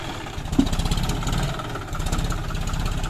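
A John Deere 5105 tractor engine pulls a disc plough in red soil, a loud, steady mid-pitched diesel thrum with rapid even firing pulses running throughout.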